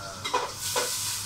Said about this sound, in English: So, let's put the garlic